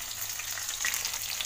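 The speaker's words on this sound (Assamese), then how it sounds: "ফ্ৰাই হৈ আছে হাই ফ্লেমত" Bitter gourd frying hard over a high flame, a dense continuous sizzle close to the pan with light spattering and no voices.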